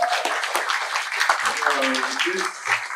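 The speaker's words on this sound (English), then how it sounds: "Can we please give him another round of applause?" An audience claps for a speaker at a music contracts training session, scattered applause running under talk that continues over it throughout.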